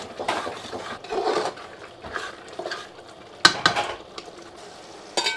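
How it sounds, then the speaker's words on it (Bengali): Spice masala for mutton being stirred and fried in a pan, with a soft steady sizzle and repeated scraping strokes of a spoon against the metal, plus a few sharp clinks near the end. "এবার এটাকে আরও মিনিট 5 মতো কষাবো"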